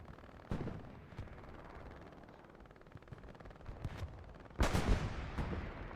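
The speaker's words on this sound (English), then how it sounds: "It looks like this MG is actually holding it down pretty well. Stat firing away." Machine-gun fire in the video game Hell Let Loose, heard as dense distant rattling bursts under a steady battle din, with a louder, closer burst of shots near the end.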